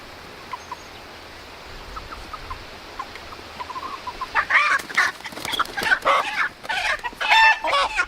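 Splash Maran chickens cluck and squawk, sparse soft calls at first, then a burst of louder agitated clucking close by as the birds are being caught.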